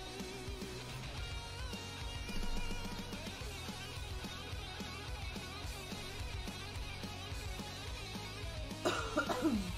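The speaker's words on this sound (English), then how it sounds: "Sorry for my coughing" A single faint cough breaks through near the end, over a steady low background hum.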